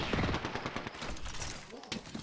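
Bursts of rapid automatic gunfire from the Apex Legends video game rattle loudly and close, a dense volley over about two seconds.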